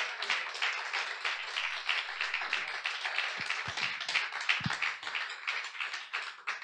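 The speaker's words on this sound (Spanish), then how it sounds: "Denle un aplauso a Jesús" Congregation clapping during a church sermon, a brisk, rhythmic burst of many hands with a few sharp individual claps standing out near the end, fairly close and loud, without speech.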